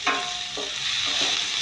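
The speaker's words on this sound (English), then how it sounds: "So I'm going to fry it a little." Thyme and parsley stir-fried in a pan give a steady, close sizzle, with a few soft scrapes as they are turned; no voices.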